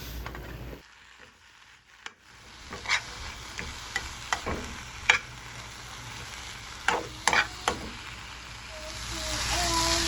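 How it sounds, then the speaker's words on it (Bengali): Green chili leaves fry and are stirred in a pan for a vegetable mash, a soft continuous sizzle broken by a series of sharp scraping stirs and clinks, close by, with no talking. "শাকগুলো ভাজা হয়ে গিয়েছে"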